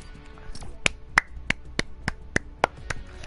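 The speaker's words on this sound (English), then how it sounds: "Let me clap for them." A slow, steady round of hand claps, roughly eight sharp claps spaced evenly over a few seconds, close and clear above a faint background.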